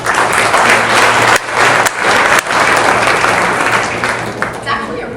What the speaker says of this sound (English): Please join me in a round of applause for all of them